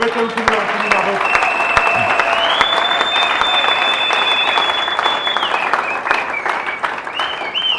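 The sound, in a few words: congregation applauding in church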